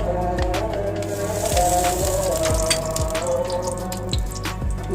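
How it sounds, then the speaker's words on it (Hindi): Ghee poured into a hot kadhai while making Kashmiri kundan kaliya lamb curry after onions are fried, giving a steady liquid pour with crackling and dripping for several seconds, close and fairly loud. "अब हम इसमें घी डालेंगे कढ़ाई में।"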